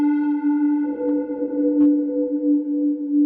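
A Katla synthesizer plays a steady sine tone with its filter input overdriven, a sustained saturated buzz carrying stacked harmonics that thicken and grow grittier partway through, clean and alone with no talk.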